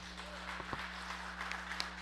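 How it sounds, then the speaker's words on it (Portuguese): A church congregation applauds, a faint, dense patter of many hands clapping over a steady low hum, lasting about two seconds with a few sharper claps standing out. "Vamos aplaudir o Senhor bem forte"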